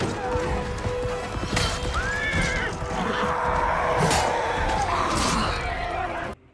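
A horse whinnies sharply in a battle scene from The Rings of Power, with hooves clattering, crashes and commotion around it. The neigh and the impacts come in loud bursts over a dense, busy background.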